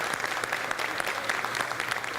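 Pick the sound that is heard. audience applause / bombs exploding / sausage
audience applause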